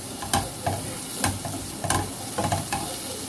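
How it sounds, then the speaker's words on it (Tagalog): Pork sautéing in a pan with no oil added, a steady low sizzle broken by periodic scraping knocks of a spatula stirring the meat. "So guys, magpapainit na tayo kasi igigisa ko yung kunting pork"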